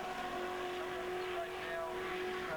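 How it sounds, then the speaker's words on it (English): A Mazda RX-7 race car drives at the Phillip Island circuit during a 2004 race, its engine a steady faint droning whine heard from a distance. "Here comes Ben Schutz in the Mazda RX-7"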